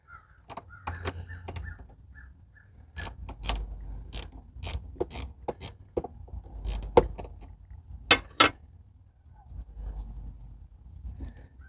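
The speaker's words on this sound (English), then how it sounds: "Use our wrench to loosen this bolt." Ratchet wrench loosening a bolt on a BMW i3 12V battery, a run of sharp close-up clicking ratchet strokes in quick irregular bursts, clear and isolated with no talking.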